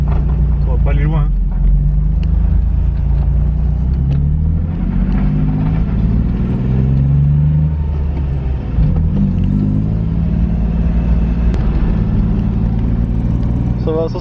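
A BMW E30 with a swapped M50 engine is driven, its loud, steady engine rumble and road drone filling the cabin while people talk over it.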